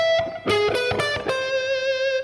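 Distorted electric guitar harmony from the 5/8 section of a song, several quick picked notes followed by a long held, slightly wavering note, loud and alone.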